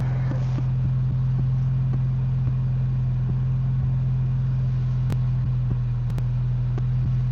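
A twin-turbo car engine idles in a steady, deep rumble, loud and close, with a constant low hum and occasional faint clicks over the whole stretch.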